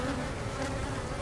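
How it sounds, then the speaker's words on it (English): Agitated honey bees buzz densely around hive frames fitted with new wax foundation, a thick, continuous, close swarm drone with no voices. "Oh, what's going on with these bees?"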